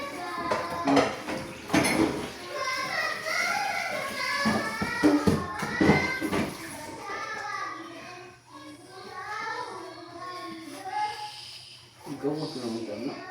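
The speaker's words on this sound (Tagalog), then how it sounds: "nagbugas ng pinggan" Dishes being washed in a home kitchen, with clinking plates and cutlery under steady talk from adults and a child.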